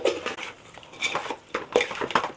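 A spoon scrapes and clinks against a metal pot while garam masala is stirred into rice pulao, giving a run of irregular metallic scrapes and taps at close range with no talking.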